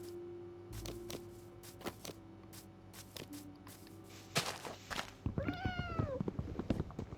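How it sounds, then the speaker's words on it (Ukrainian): A cat meows in a modded Minecraft game, several drawn-out rising and falling cries near the end, preceded by scattered clicks and taps over a low steady hum. "Котик, що ти до мене прийшов?"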